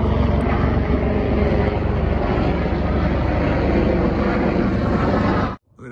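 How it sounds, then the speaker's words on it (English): Helicopters fly over the Hollywood Hills in Los Angeles, heard as a loud, continuous rotor and engine drone that holds steady before cutting off abruptly near the end. "What is up with those helicopters? They look like Apache helicopters from the military."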